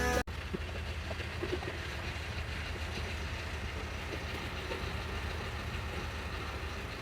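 A boat's engine rumbles steadily as it pulls in to dock at Vypin, a low, continuous drone with a sharp knock right at the start and no talking.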